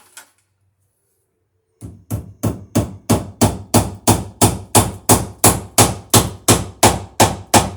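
Hammer blows drive a staple over heavy three-conductor number 10 electrical cable: after a short silence, about eighteen sharp, evenly spaced strikes ring out in a steady rhythm, close and loud.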